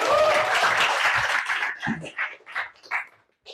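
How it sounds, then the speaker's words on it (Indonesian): A school assembly group claps in a burst of applause that tapers into a few scattered claps, with a dog-like yelp briefly in the middle. "Tepuk tangan dong untuk kita semua."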